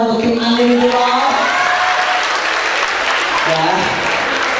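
Audience at a campus pre-launch event claps and cheers for a team, a sustained roar of applause with crowd voices, while a voice talks over it near the start.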